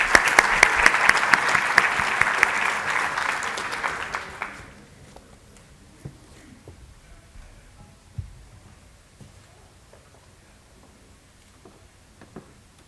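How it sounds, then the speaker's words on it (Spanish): Applause from an audience at a Spanish-language cybersecurity talk, welcoming a doctor who holds a 2018 merit medal to the lectern. It is loud and dense for about four seconds, then breaks off into a quiet room with a few scattered knocks. "Vamos a darle un fuerte aplauso"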